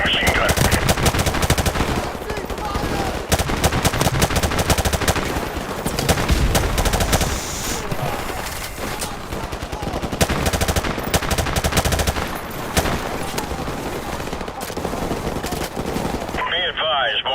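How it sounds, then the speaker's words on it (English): Sustained automatic gunfire from a machine gun in the video game Call of Duty: Modern Warfare Remastered campaign, loud, dense bursts continuing throughout amid battle noise and explosions. "Jackson, use their machine gun."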